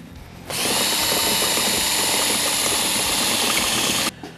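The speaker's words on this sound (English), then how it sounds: "So we're going to start to drill." A power drill drilling out rivets on a Ski-Doo Summit Rev XP snowmobile chassis whines loudly and steadily for several seconds, starting abruptly and stopping just as sharply, with no talking.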